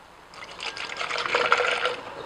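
Low sodium soy sauce, about a quarter cup, poured for a tofu marinade: a soft, steady trickle lasting a couple of seconds, close and alone with no talking.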